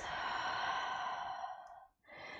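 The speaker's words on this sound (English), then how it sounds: "Take a deep breath out." A long, deep exhale during yoga breathing in a forward fold, a soft close airy rush that fades out, then a brief new breath begins.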